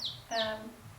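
A couple of high, thin chirps from three-day-old baby chicks, the second followed by a brief buzzy cheep, close by against a quiet background.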